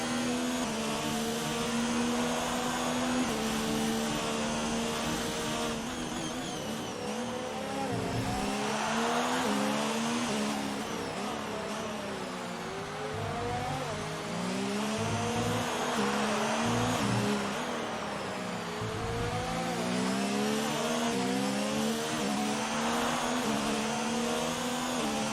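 The Haas F1 car from an F1 video game sets a lap of the Mexican Grand Prix, heard on board. Its engine whines loud and steady throughout, rising and falling in pitch as it shifts gears and brakes into corners.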